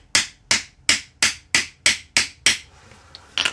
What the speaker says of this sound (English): I'm just angling my hammer just a little bit.